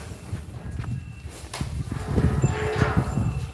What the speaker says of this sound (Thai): ไปดูน้องวัวกัน